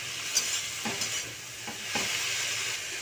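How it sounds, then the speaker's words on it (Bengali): Greens being stirred in a pan with fried lentil dumplings (bori), a continuous close sizzle with soft scraping strokes of the spatula at irregular intervals. "সেগুলো সব দিয়ে একবার শাকটা নাড়িয়ে নেব ভালো করে"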